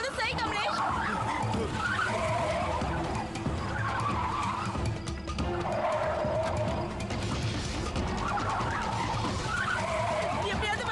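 A car skids out of control in a horror drama scene, a loud continuous screech of sliding tyres with rising and falling squeals over a droning engine, while voices speak urgently through it.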